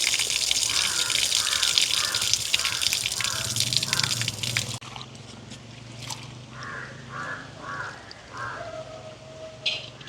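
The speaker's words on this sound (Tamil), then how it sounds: "முதல் இந்த 2-3 தண்ணியில் நாங்கள் கழுவி எடுப்போம்." Split chickpeas (chana dal) are washed by hand in water outdoors in a village, with rhythmic sloshing and swishing strokes and faint crow caws in the background.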